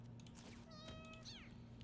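A cat gives two short meows in quick succession, the second rising and falling, faint over a low steady hum.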